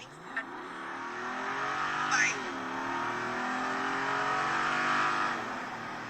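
A Jeep with a 392 V8 engine revs and accelerates nearby, its deep roar rising and sweeping in pitch as it pulls away, with a brief high squeal partway through and a sustained throaty growl throughout.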